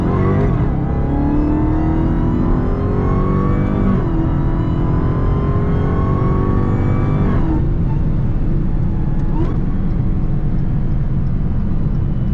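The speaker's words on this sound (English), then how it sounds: "Oh, y'all heard that backfire?" A Dodge Hellcat widebody roars loudly and continuously at close range, revving up and down through several surges, with sharp backfire pops cracking between pulls.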